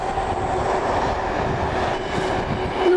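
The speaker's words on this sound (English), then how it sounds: "there's another one coming through. Bit of a goods train." A goods train rumbles steadily through Nuneaton railway station, close and loud, with continuous rolling wheel noise and a faint squeal near the end; no one speaks.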